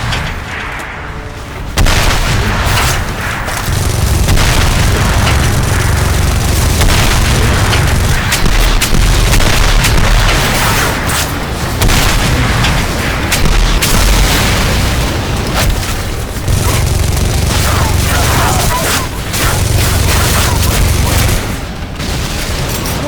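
Heavy suppressive gunfire and repeated explosions in the video game Section 8, a dense, continuous barrage of booms and bursts that fills the whole stretch at high loudness.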